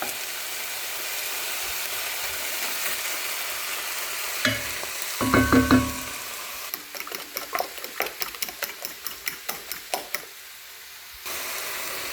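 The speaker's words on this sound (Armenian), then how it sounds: "Թողնում ենք լավ տապակումը" Food fries in a pan with a steady, broadband sizzle underneath. A few close clatters come in the middle, then a run of rhythmic ticking taps follows near the end.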